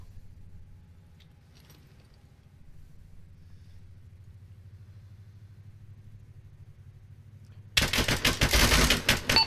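Military vehicle in a tactical shooter game: a low engine rumble grows steadily louder as it approaches, then heavy gunfire suddenly breaks out near the end.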